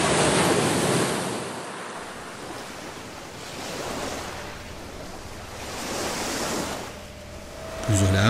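Waves break on a Vietnamese shore, the surf rising and falling in slow swells of roaring wash with wind buffeting the microphone, ending in a brief tonal beep.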